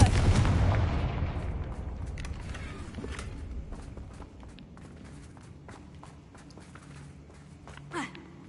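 A Confringo spell blast in Hogwarts Legacy, opening with a loud, rumbling explosion that slowly fades into scattered clattering and footsteps, followed by a short sharp burst near the end.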